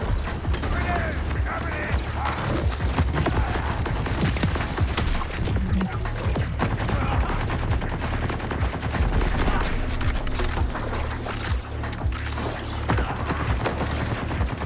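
Rapid gunfire in Borderlands 4, dense clattering bursts of shots and mechanical rattles running continuously and loudly throughout.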